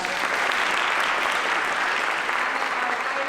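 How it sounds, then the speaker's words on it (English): Sustained audience applause for the stage manager at a Wasco High Drama Club performance of Little Women, a steady, even wash of clapping from a full house that fills the space without pause. "so let's give her a round of applause."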